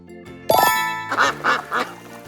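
After a chime, a duck quacks three times in quick, evenly spaced bursts over soft music.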